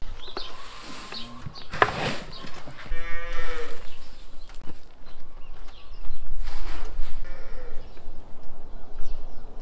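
Cattle and calves moo repeatedly on a farm during morning feeding with grain and water, several loud close calls overlapping with lowing from other animals nearby, no talking.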